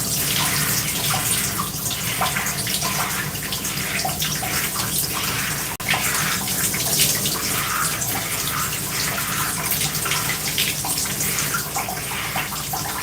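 Shower water running steadily while hair is rinsed, a continuous close hiss and splash with no pauses, filling the whole stretch.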